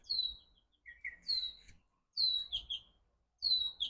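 A bird sings in clear, repeated bursts of high chirps and tweets, separated by short pauses, close and distinct against a quiet background.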